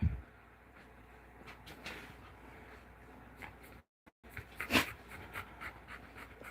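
A Chow, German Shepherd and Husky mix dog pants softly and rhythmically close by, with a few faint scuffs and a brief dropout midway.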